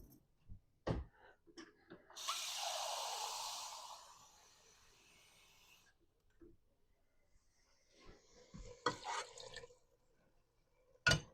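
Water poured from a can into a pot of chili with tomatoes, a single broad splashing pour lasting about two seconds, framed by scattered clinks and taps of the can against the pot.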